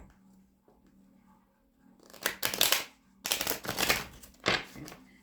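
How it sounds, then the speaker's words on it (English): Several bursts of crisp, papery riffling and snapping as tarot cards are butterfly-shuffled close by, with short pauses between them and a quiet start. "One more butterfly shuffle."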